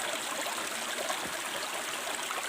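A small stream flows through a forest after rain, a steady, close rushing and gurgling of water with no voices.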